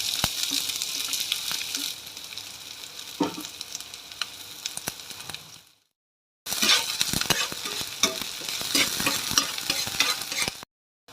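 Onions frying in hot oil in a pan on the stove, a continuous bright sizzle with scraping stirs, briefly cutting to silence before the sizzling resumes, close and alone without voices.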